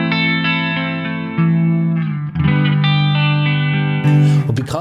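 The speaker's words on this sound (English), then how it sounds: "So then bringing the width back basically makes the chorus less pronounced." An electric guitar plays through a Gokko Super Chorus analog stereo chorus pedal, with its width turned down and treble boosted, giving sustained, slightly shimmering chords that change a few times, loud and close.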